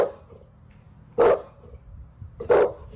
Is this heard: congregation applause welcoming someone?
no